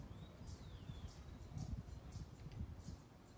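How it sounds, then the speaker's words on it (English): Birds chirp faintly outdoors in a handful of short, distant calls over a low rumble of wind and ambient noise. "I'm hearing birds."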